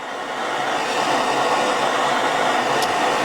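A gas torch flame heats silver wire held against a block while making jump rings, giving a steady, close, loud roaring hiss throughout with no talking.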